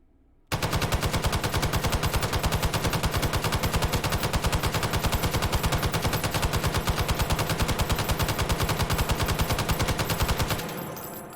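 M60 light machine gun fitted with a muzzle brake, fired in the H3VR virtual reality game: one long, loud, continuous burst of rapid automatic fire lasting about ten seconds, then ending abruptly.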